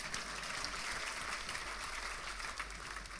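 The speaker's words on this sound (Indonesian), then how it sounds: "Oh yang keras tepuk tangannya." A church congregation claps loudly during a sermon, a dense and continuous wash of applause with no break.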